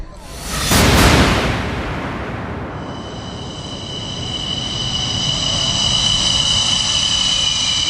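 A MiG-29 fighter jet over a military airfield in Prykarpattia, Ukraine, makes a loud, close roaring pass that peaks early and then settles into a steady, high, whining engine tone.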